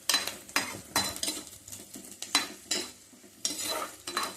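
Round chillies fry in a pan while a utensil stirs and scrapes them, giving repeated scraping strokes about every half second or so over a soft background sizzle, close and fairly quiet.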